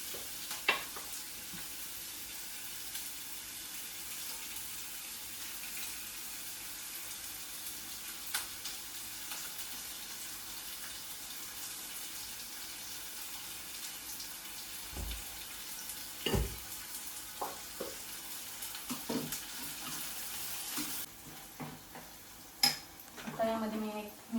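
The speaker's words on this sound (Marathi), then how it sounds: "पण थोडं मी तेल टाकून घेतो" Oil sizzles steadily on a hot tawa while frying, with occasional clinks and scrapes of a utensil against the pan; a continuous close hiss runs throughout.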